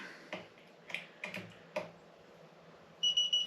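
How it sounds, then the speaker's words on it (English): A few sharp clicks and taps at a steady pace as a digital torque wrench tightens airgun scope mounts to 18 inch-pounds, then a short burst of high electronic beeps right at the end. "You can hear it beep, beep,"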